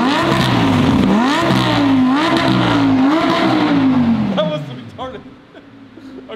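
A powerful Mercedes exotic car engine revs loudly and repeatedly, its pitch climbing and falling, before the roar fades into quieter background noise.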